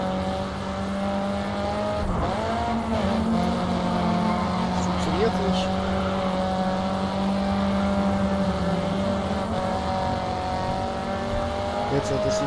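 A race car engine in the video game GRID 2 drones at steady high revs, dipping briefly around a corner and then pulling again, while someone talks over it in German.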